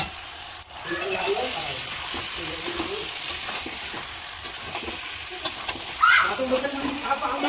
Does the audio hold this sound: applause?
no